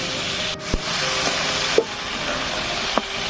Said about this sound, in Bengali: তারপরে তেল দিয়ে দিচ্ছি, দিয়ে সবগুলো মাছ দিয়ে ভালো করে ভেজে নিচ্ছি।